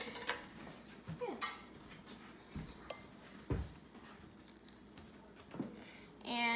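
Cooked stroganoff noodles stirred with a spoon in a bowl, giving faint soft squishes and occasional light clinks of utensil on dish in a quiet room.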